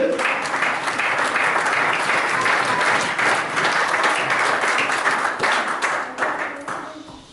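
A church congregation claps and applauds together in a dense, loud, sustained burst. The clapping holds steady for several seconds and then thins out toward the end.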